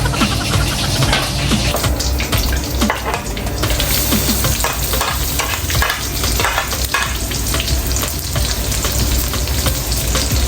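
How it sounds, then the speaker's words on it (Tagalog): Garlic and onion sauté in a pan for lomi, a steady dense sizzle and fry running loud and close throughout, with scraping stirs breaking through now and then and no talk. "Gisa lang natin."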